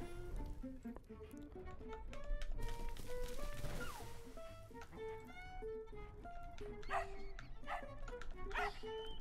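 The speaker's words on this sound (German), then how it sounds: "Auch gut, dass er bellen kann und dann die Ratten erschrecken kann." A small dog barks and yips repeatedly in a Tintin adventure video game, with a string of quick close barks over a bed of game music and effects.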